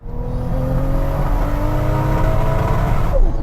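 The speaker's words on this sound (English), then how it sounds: "floor the throttle, build up the revs, and off we go, bit of spin." Tuned 1,000 horsepower Toyota Supra MK4 with manual gearbox launching hard from a standstill, engine revving loudly and steadily climbing with a brief tire squeal of wheelspin, close and continuous without talk.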